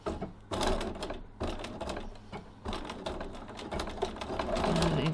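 A sewing machine stitches with a zipper foot along the top stitching of a tote bag's adjustable strap, running in short bursts with brief pauses as the stitching goes forward and then back, close and clear.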